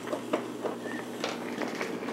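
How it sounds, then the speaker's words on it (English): A Gray Audograph dictating machine runs with a low, faint mechanical hum and soft, irregular rattling pulses, all heard alone at close range. "This is the sound of the machine."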